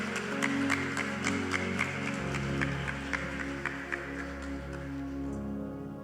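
A church congregation applauds steadily for several seconds over sustained organ or keyboard tones, the clapping moderately loud and even throughout.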